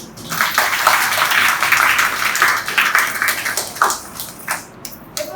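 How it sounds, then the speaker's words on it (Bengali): An audience at a cultural festival in Nawabganj celebrating Nazrul's birth anniversary and Eid claps for a guest, a few seconds of lively applause that thins out to scattered claps toward the end. "তার জন্য একটা করতালি"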